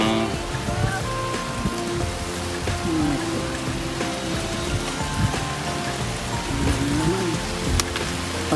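Heavy rain pours steadily throughout, a dense continuous hiss of drops on surfaces with faint voices murmuring underneath.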